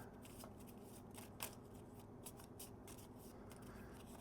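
A deck of cards from a Star Wars Mandalorian Adventures board game is shuffled by hand, a series of soft, quick riffling and sliding bursts, faint and close, with no talking.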